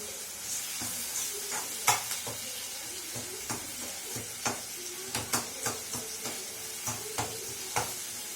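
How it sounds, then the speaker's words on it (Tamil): Eggplant, tomato and onion sizzle steadily in a pan while a spoon stirs and scrapes, tapping sharply against the metal every second or so. "கத்திரிக்காய் தக்காளியை மூடி வச்சோம்னா கொஞ்சம் ஈஸியாக வதங்கிடும்"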